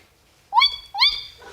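A person imitates a tawny owl's call and response with two rising, wavering vocal hoots, a short gap between them, loud and close with no other sound around them.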